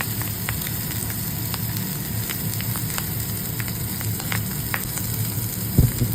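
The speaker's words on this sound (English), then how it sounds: "Look at that thing sizzling in the hot pan." A precooked hot link sausage sizzles in a hot pan over medium-high heat, a steady close frying hiss with scattered pops and crackles and a brief clatter near the end.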